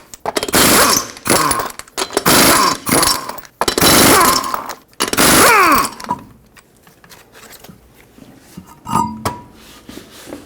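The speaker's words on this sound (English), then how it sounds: "Use a 21mm socket, remove all 5 lug nuts, and then we can pull the wheel off." An impact wrench on a 2006–2010 Hyundai Sonata spins off front wheel lug nuts with a 21mm socket in four loud, close bursts, each about a second long, followed by quieter clinks and rattles.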